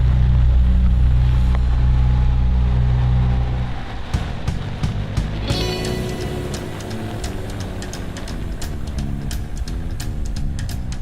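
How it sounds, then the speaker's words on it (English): A heavy digging machine's vehicle engine drones loudly and steadily, then drops away into a quieter run scattered with sharp rattling clicks and knocks. "Just me and my engine."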